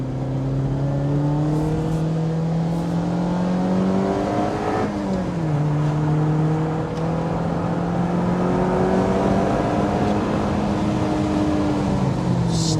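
A Lotus Elise 240 Final Edition is driven hard around a track circuit, its engine loud and close as it revs high, drops abruptly under braking and a downshift into second, then climbs again through several rising gear pulls.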